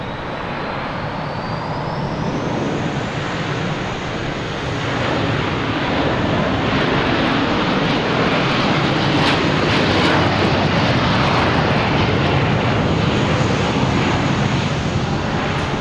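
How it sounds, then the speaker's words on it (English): An SAS airliner departing Boston Logan Airport for Copenhagen: a loud, broad engine roar that builds over the first few seconds and then holds steady, with a faint rising whine at the start and no voices. "There's SAS heading to Copenhagen."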